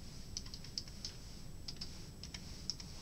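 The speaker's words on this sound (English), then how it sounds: "This is when I'm typing." Soft, irregular clicks on a computer keyboard tapping out slowly at close range, with uneven pauses between presses over a low background hum.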